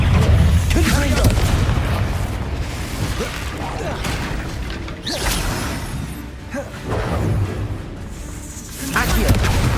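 Fire-spell blasts in Hogwarts Legacy, several heavy booming explosions with whooshes and rumbling debris spread across the stretch, loud and close, with a character's voice shouting between impacts.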